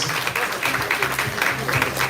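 Crowd applause greets two boxers at an amateur boxing event in Verona, a steady, fairly close wash of clapping running the whole way with no one speaking over it.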